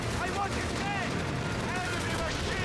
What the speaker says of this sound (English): There's the double suppression into bazooka fire.